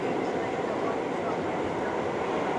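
Steady, loud rumble and broadband roar of a New York subway train in motion, continuous for the whole stretch with no pauses, with possible faint voices blended into the carriage noise.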